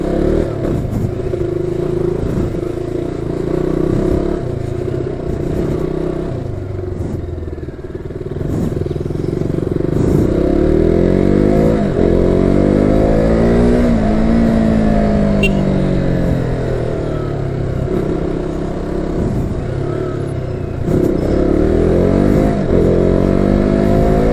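A motor vehicle rides along a road in Arakkonam, Tamil Nadu, its engine droning steadily and rising and falling through gear changes and acceleration, close up for a long stretch.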